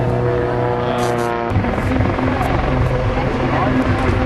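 Aerobatic display aircraft roar loudly at an airshow, a steady engine drone whose pitch shifts midway, with a voice faintly audible underneath.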